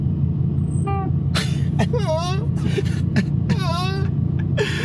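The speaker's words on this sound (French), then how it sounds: "en s'arrêtant, les freins font un petit bruit." High, wavering squeals come in several short bursts over a low, steady engine rumble as a sports car's brakes squeak while it stops.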